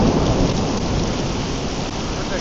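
Heavy rain pours steadily while a deep, continuous thunder rumble rolls underneath, loud and close throughout with no voices.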